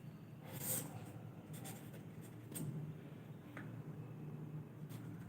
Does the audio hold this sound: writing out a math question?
yes